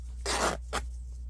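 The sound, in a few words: paper being ripped for a junk journal cover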